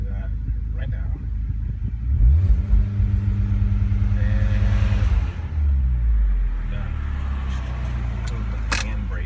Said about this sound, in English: I depress the accelerator, and I have it set at 3 grand right now